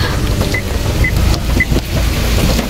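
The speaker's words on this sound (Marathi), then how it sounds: "पाऊस आहे जोरात बघा" Heavy rain pours steadily as a dense, loud hiss, heard from inside or beside a car, with a few faint short beeps on top.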